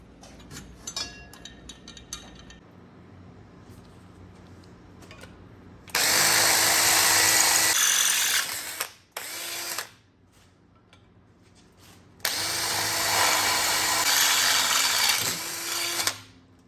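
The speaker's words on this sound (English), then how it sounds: "we'll drill another hole here that mounts to this" A power drill whines loudly in two long bursts while drilling a hole in a metal alternator bracket, with quieter handling and clicks between them.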